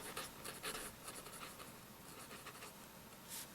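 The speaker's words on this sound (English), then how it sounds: "You can see that this nib still skips an awful lot. It's going to really require a lot of work. It's very scratchy." Vintage Bulgarian Rekord 66 fountain pen with a scratchy nib that skips, scratching faintly across paper in close, soft irregular strokes with small louder bursts.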